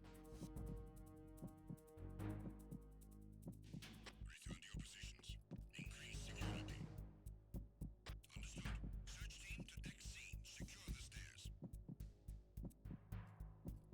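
Steady heartbeat throbbing from the Metal Gear Solid 2 video game, a low pulsing thud repeating in a regular rhythm over a hum, with some talk nearby.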